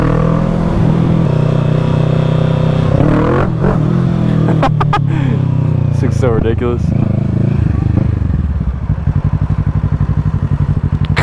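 A Kawasaki Z650 motorcycle with modified exhaust ridden wide open on city streets at night, the engine loud and revving hard through rising and falling pitch sweeps before settling to a popping idle-like rumble, with a rider talking over it.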